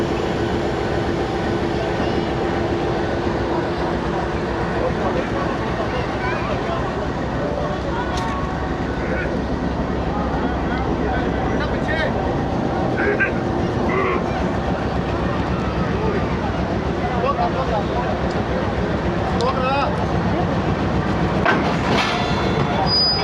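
The Bulleh Shah Passenger train on the Lahore–Kasur–Pakpattan line runs past at speed with a continuous loud rumble and rhythmic wheel clatter, with occasional higher squeals and crowd voices faintly mixed in.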